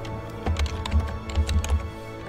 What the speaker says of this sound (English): Shit, where's my keyboard?